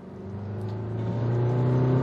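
A new Honda Civic's diesel engine revs up, its low droning hum rising steadily in pitch and loudness over two seconds, heard from close by with no talk.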